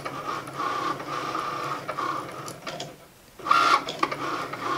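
A Cricut Maker cutting machine draws on card, a busy mechanical whir with repeated motor hums and clicking carriage movements, a brief lull, then the motor picking up again, close and moderately loud.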